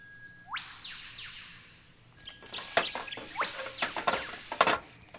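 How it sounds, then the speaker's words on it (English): Birds chirp and sing at an outdoor campsite in the morning, a whistled call sweeping upward near the start, then a busy run of overlapping chirps and tweets at moderate distance. "The birds this morning are so good."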